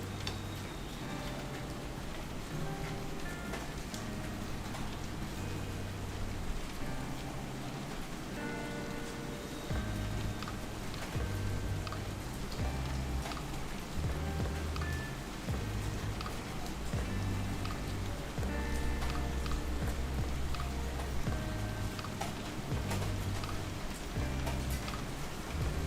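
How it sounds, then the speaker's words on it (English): Steady rain patters on a surface, a soft continuous hiss with scattered ticking drops, fairly quiet and unbroken. "I think you guys can hear the rain."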